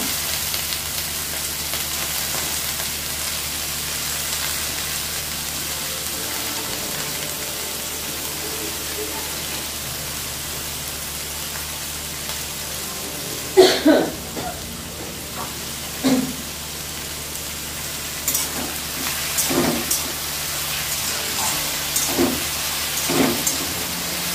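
Potatoes and eggplant fry in a pan with a steady, soft sizzle. A few louder clicks and stirring knocks come near the end.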